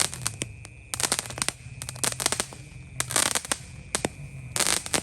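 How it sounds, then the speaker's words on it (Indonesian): A mini kick firecracker going off: loud, close bursts of rapid crackling pops that come in several separate clusters with short pauses between them. "Jadi seperti ini mercon mini kick itu."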